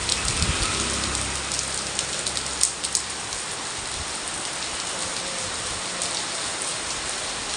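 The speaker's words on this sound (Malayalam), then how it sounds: "അങ്ങനെ ഇന്നും നല്ല ഉഗ്രം മഴയാണ്." Heavy monsoon rain pouring down in Alappuzha, a dense, constant hiss of drops hitting surfaces, loud and close with a few sharper patters early on.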